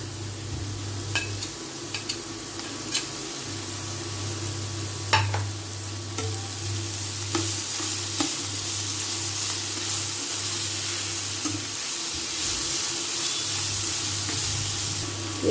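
Ginger fries gently in a pan for a semolina (rava) breakfast, a continuous soft sizzle with occasional spoon clinks and stirring scrapes over a steady low kitchen hum, no one speaking.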